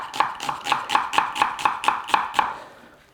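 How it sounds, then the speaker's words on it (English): Knife chopping an onion on a board for beef stroganoff: about ten steady, evenly spaced crisp chops, close and clear, with no voices. "now to prepare the onions and the mushrooms that go in"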